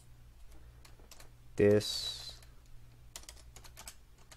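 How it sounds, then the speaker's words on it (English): Body text being typed on a computer keyboard in a WordPress editor, sparse clicks and short bursts of keys close to the microphone, with a brief louder rustle partway through and a single spoken word. "Let me just type in something else."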